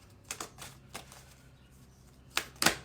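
Playing cards are shuffled by hand in a few quick, crisp riffling bursts, with a louder pair of riffles near the end and quiet pauses between them.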